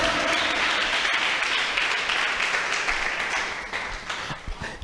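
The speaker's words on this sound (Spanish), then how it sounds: "Dele fuerte esas palmas." Church congregation clapping hard in a continuous burst of applause that gradually tapers off toward the end.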